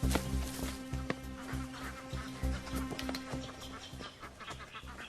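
Ducks quack in a steady, busy chatter of short calls, with buzzing insects and light outdoor ambience mixed underneath, fairly close and continuous.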